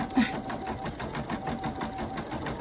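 A home sewing machine running with a faint rumbling fault, giving a rapid steady mechanical chatter of stitching with a low rumble underneath, close by, and a voice briefly heard.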